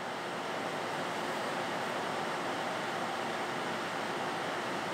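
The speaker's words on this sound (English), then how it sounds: "I turned the coolant back on." Coolant spraying inside a CNC machine during cutting in a machine shop, a dense, steady hiss of spray that stays constant and fairly loud from start to finish with no talking.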